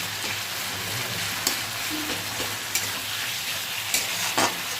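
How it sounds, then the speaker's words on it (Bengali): Masala spice paste frying in oil for pabda fish paturi, a loud continuous sizzle with occasional soft scrapes of a spoon stirring. "মশলাটা মোটামুটি কষা হয়ে এসছে।"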